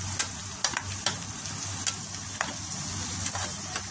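Onion, tomato and garlic fry together in a pan for Maharashtrian chicken aalni bhat, a loud, close sizzle broken by frequent clicking, scraping stirs of a spatula.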